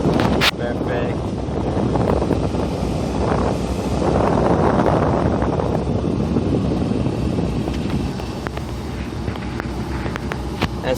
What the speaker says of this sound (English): Let's try the AC. Okay, oh, wind is blowing really strong.